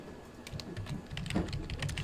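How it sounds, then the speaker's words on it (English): An email address being typed on a computer keyboard: a quick run of light, close key clicks with uneven rhythm and no talking. "I would just type your email"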